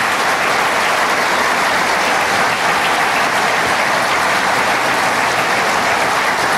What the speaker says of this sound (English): Anthony Brindisi, let's give him a round of applause.